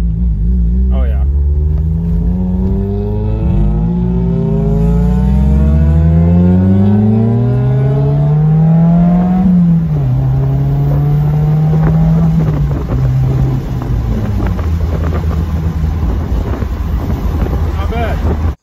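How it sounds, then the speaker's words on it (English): A Mazda Miata engine revs up and down through long sweeping pitch rises, close by, with wind rumble buffeting the microphone throughout. "You can probably really hear Jace's car over this one."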